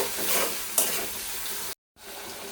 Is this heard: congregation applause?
no